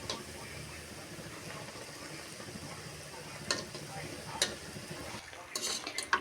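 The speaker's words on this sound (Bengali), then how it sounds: "পিঠাগুলো আমি একটু মুচমুচে করে ভেজে নিব," Puli pitha dumplings fry until crisp in hot oil, a low, quiet sizzle broken by a few sharp clinks of a utensil against the pan.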